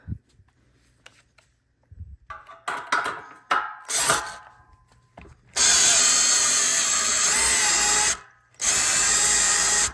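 A power drill works rusty bolts loose from an old DirecTV Phase 1 satellite dish: a few short clanks and bursts come first, then a loud, steady close-up whine that cuts off briefly before running on.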